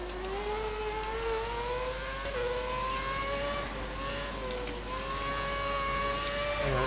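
A Formula 1 car engine in the F1 2011 racing game at Spa whines steadily at high revs, climbing through several upshifts with small dips between gears, a continuous synthetic engine tone with no talking.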